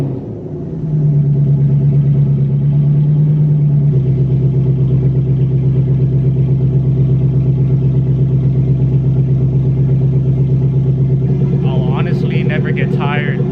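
A Lexus LS400 UCF20 fitted with a loud aftermarket exhaust starts up and settles into a deep, steady idle rumble close by. Brief speech comes near the end.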